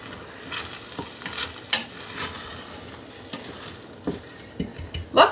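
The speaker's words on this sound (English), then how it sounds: "you can hold on to this while you're stirring it" Shrimp risotto with Parmesan and butter stirred in an Instant Pot, a spoon scraping and clicking against the pot in irregular strokes over a soft sizzle, with a sharper knock at the end.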